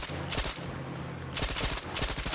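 Rapid automatic gunfire from a weapon in the video game Far Cry 6, loud and close, comes in dense bursts with a short pause in the middle before firing resumes.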